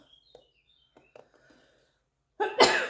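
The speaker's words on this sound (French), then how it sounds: "Je vais éternuer." Quiet breathy rustles and faint clicks lead into a single sharp, loud sneeze bursting out near the end.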